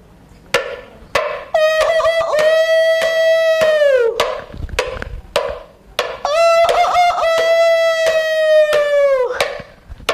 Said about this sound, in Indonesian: ayam jantan pun bergagak bersahut-sahutan